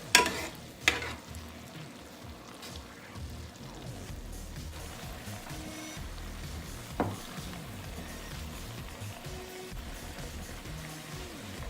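Garlic frying in a pan as the base for homemade Alfredo sauce, a steady soft sizzle throughout with a couple of sharp utensil knocks near the start and one more midway.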